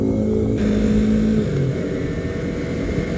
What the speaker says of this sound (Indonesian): Yang paling gua suka pada motor ini terutama pada mesinnya dan suara knalpotnya